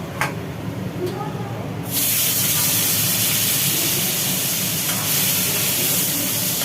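Whole cumin crackles quietly in oil until potatoes are dropped in, setting off a sudden loud, hissing sizzle that stays strong and steady to the end.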